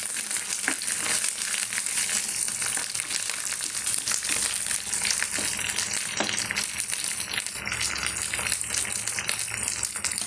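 Steady crackling sizzle of mustard seeds frying in hot oil, with sharp pops scattered throughout, close and fairly loud.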